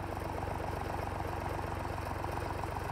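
Steady low throbbing of a tractor engine idling, a continuous even rumble with no voices.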